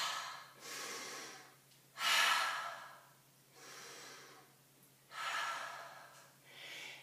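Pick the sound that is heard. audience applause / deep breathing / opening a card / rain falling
deep breathing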